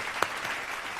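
A small group at a tabletop Dungeons & Dragons session gives a brief burst of clapping, one sharp clap standing out amid a quick scattered patter.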